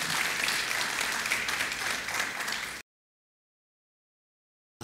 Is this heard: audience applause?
yes